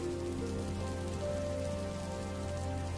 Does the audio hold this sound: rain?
yes